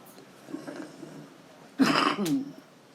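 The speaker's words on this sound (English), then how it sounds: "Excuse me for coughing." A single harsh cough bursts out close to the mic after a quiet stretch with a faint voice in the background.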